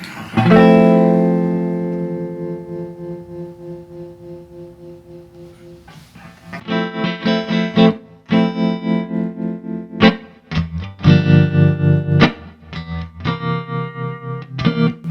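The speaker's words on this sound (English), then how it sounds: "You'll notice when the amp uses the tremolo, it starts to cheat a little bit of the tone of the amp." Electric guitar through an amp tremolo set up on a Line 6 HX Effects: a long ringing chord, then choppy pulsing notes whose volume throbs in a steady rhythm, fairly loud with no talk.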